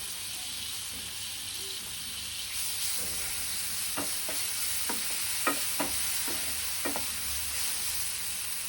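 Tomato, coriander powder and salt fry in a pan, a steady sizzle running throughout while a spoon scrapes and stirs in a series of sharp clicks in the second half.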